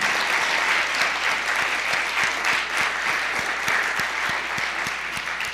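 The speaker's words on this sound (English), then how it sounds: "let's give a big round of applause for Paul" A crowd at the Santa Barbara County Poetry Out Loud recitation contest gives a warm round of applause, many hands clapping in a full, sustained burst that holds steady and fades only slightly.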